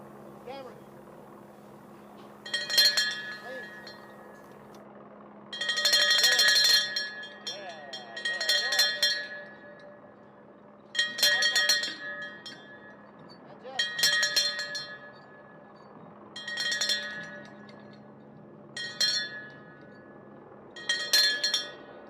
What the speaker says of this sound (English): Those were some enthusiastic bell rings right there.